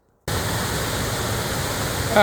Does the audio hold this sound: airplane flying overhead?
no